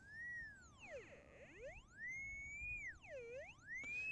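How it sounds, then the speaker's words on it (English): Schonstedt GA-52Cx magnetic locator emits a clean electronic sine tone that glides up and down in pitch, sweeping high and dropping low in smooth arcs, steady and moderately loud with no talking. "If you go beyond the edge of the target, the tone goes down."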